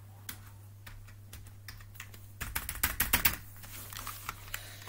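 Typing on a T6 keyboard during a sound test, close up: a run of scattered key clicks, then a quicker burst of louder clacks including the space bar, over a steady low electrical hum.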